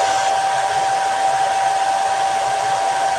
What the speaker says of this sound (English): now I'm going to get my hair dryer back out and I'm going to dry it